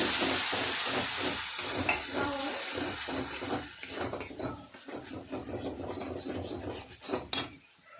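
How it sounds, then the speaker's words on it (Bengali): Spices for a cauliflower curry sizzle in a pan while a utensil stirs and scrapes rhythmically against the metal, with frequent clinks throughout. "মশলাটা খুব ভালো করে আমি কষিয়ে নেব"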